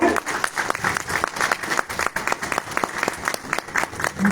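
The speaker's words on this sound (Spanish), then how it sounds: "Un fuerte voto de aplauso," Applause from a concert audience at a regional music performance in Pausa, Ayacucho, Peru: dense, steady clapping throughout with rhythmic accents, fairly loud and close, with voices faintly audible in the crowd.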